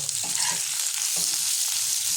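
Close, continuous sizzle of chopped onion frying together with potatoes in hot oil, with a few soft spatula scrapes and clinks mixed into the steady hiss.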